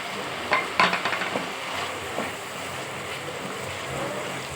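Small prawns hit hot oil and well-cooked masala for a prawn malai curry, raising a steady, close sizzle, with a few sharp utensil clacks and stirring scrapes early on.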